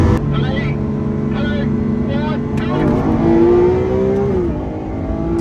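Lamborghini Aventador SV and SVJ racing each other, a loud sustained engine roar with rising revs heard from inside, while someone talks over it.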